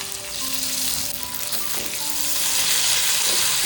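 Peanuts, garlic and curry leaves sizzle steadily in hot oil for roasted eggplant bharit, a loud continuous frying hiss that fills the clip with no talk.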